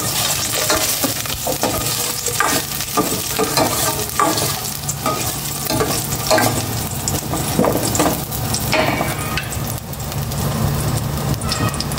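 Garlic sizzling in a hot pan, heard as a continuous loud frying hiss with frequent clattering stirs and scrapes of the utensil against the metal, close up and without voices.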